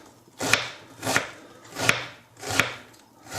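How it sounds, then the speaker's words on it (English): An onion is chopped with a knife on a board in four evenly spaced, crisp thuds about two-thirds of a second apart, close and clear with no talking. "what we're doing with this onion is we're going to chop it up"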